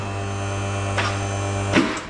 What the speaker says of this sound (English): The engine, oh, sounds sweet, isn't it?